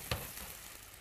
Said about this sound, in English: Pan sizzling.